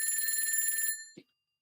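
Telephone ringing in a video game, a fast electronic bell trill that repeats steadily for about a second, then stops abruptly and is followed by a brief low thump.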